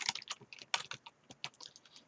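A computer keyboard is typed on in a quick, uneven run of crisp, close key clicks, one spell of typing an item into a numbered list in a word processor, with no talking.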